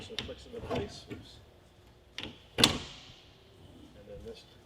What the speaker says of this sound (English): And then this closes the door.